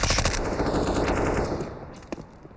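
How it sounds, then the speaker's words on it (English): Rapid SMG and rifle gunfire rattles through a CS:GO match on the Nuke map, a dense, loud stream of shots that thins out toward the end. "this is where the SMGs, the rifles, start to have their havoc as they spot the players and the pistols at range"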